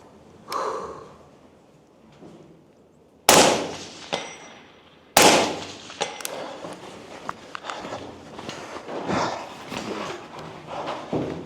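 Rifle fire at a 12-inch steel plate 220 yards downrange: a faint early shot, then two loud sharp reports a couple of seconds apart, followed by scattered ticks and rustling nearby.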